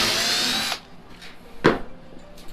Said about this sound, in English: once it starts, then just kind of drill sideways.